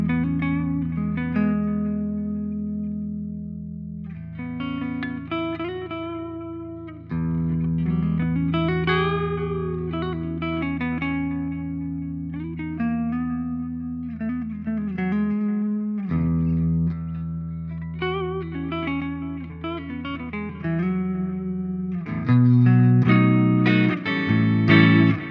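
A Gibson Standard 60s electric guitar played on the neck pickup noodles through melodic lines with bends and sustained notes, clear and loud, with some effects coloring the tone and a busier, fuller passage near the end.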